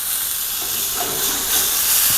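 A spice paste for Balinese chicken sate lilit hits a hot pan with oil, giving a loud, steady, close sizzling hiss that holds throughout without talk.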